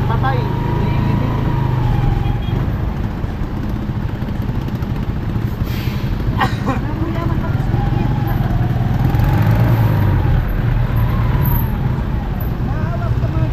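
Congested road traffic with cars and trucks creeps past, a steady engine drone with a passing horn or siren-like tone, while people talk nearby.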